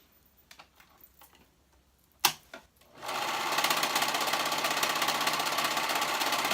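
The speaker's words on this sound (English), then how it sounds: "I'm going to go ahead and sew those raw edges." Close sewing machine stitching raw fabric edges on sweatpants: a few quiet clicks and handling taps, then from about three seconds a dense, fast, steady mechanical whir runs to the end.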